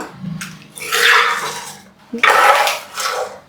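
A spoon stirs vellarikka pulinkari, a cucumber curry, in a pot, making two close, loud, wet sloshing and scraping strokes with a short pause between them.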